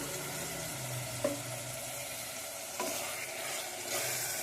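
Spinach with ground red chilli paste being stirred and fried in a pan for spinach rice bath, a steady sizzle with a few sharp stirring clacks of a spoon against the pan.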